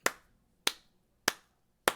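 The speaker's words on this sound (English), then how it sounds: "clap my hands so I can see it pull up again" Four sharp, evenly spaced hand claps close to the microphone, each a crisp isolated crack with brief room decay and silence between.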